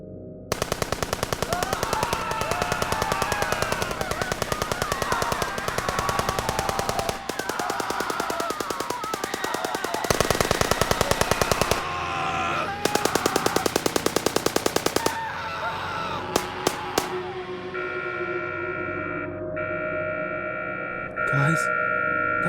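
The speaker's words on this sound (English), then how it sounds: "we heard an insane amount of gunfire and screams from northeast of us" Gunfire in a PUBG-style battle on Miramar rings out as sustained, loud bursts of rapid automatic fire with distorted, echoing cracks. It breaks off near the end into sparse single shots and a steady high tone.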